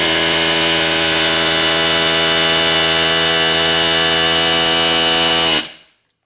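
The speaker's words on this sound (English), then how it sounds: "And then you're just gonna start hitting it and watch your gap and watch for the rivet to mushroom out and seat against the control arm." A rivet is hammered into a 1963 Corvette lower ball joint to seat it against the control arm, making a loud, steady, buzzing rattle that runs nonstop for about five and a half seconds and then cuts off abruptly.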